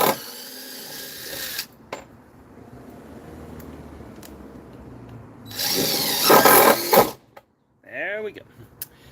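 A power drill drives a screw in two loud, close bursts, a short one at the start and a longer whirring run later, with a voice speaking briefly at the end.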